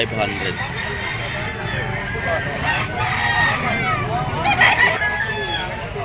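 A green-legged henny stag rooster crows repeatedly, loud and close, its calls rising over steady farmyard clucking and background noise.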